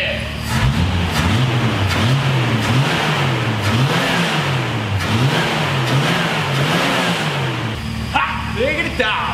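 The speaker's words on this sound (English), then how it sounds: "Listen to this rev." A 1970 Dodge Challenger's V8 revving repeatedly in a rhythmic, loud, close-up rise and fall, with a dog barking and a voice near the end.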